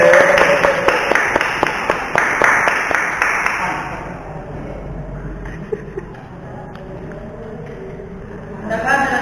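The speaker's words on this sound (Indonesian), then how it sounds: "Kita berikan tepuk tangan kepada tim kontra." Audience clapping for the contra team at a school debate on young children's social media use; a few seconds of loud, rhythmic hand claps that thin out and fade into a quieter room.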